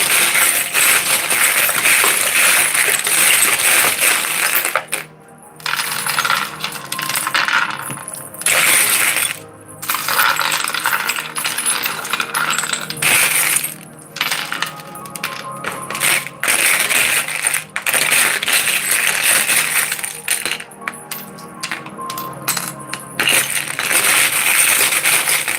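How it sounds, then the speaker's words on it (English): Continuous rattling and clinking of small metal and glass charms being shuffled around in a box, close and busy, with sharp jangles and brief pauses throughout. "Excuse the noise while I shuffle through the box of charms."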